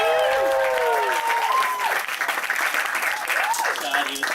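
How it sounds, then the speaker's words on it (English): Wedding guests applaud and cheer during a toast, a steady burst of clapping with whoops and excited voices carrying over it for several seconds. "Guys, can we get a round of applause for how good Katrina looks tonight?"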